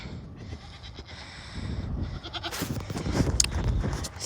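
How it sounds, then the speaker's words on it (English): Goats on a farm pasture bleating, several wavering calls rising over a rustling outdoor background, growing louder and more frequent toward the end. "we have goats following me."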